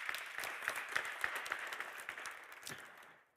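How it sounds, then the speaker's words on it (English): Audience applause after a public panel on the Easter riots, a steady wash of clapping with a few sharper individual claps standing out, gradually thinning and fading near the end. "A big round of applause."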